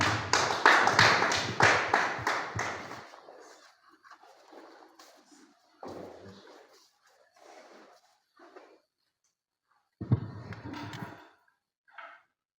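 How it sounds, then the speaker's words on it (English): Audience clapping for a student being awarded at a school grading ceremony; a few seconds of loud, rhythmic clapping that thins into scattered claps and faint sounds, with a short final burst. "Clap."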